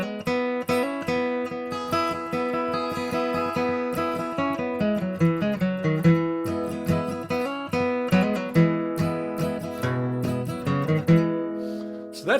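A bluegrass kickoff to "Rank Stranger", played in a Carter-style picking pattern as a steady run of plucked melody notes and bass strums, close and clear with no talking.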